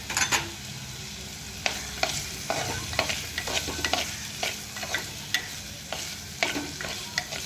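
Fenugreek leaves with turmeric and green chillies frying in a pan and being stirred: a continuous close sizzle with regular scraping strokes of the spoon roughly every half second.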